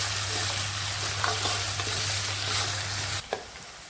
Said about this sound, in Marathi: कांदा परतून घेऊ आपण छान गुलाबी रंगापर्यंत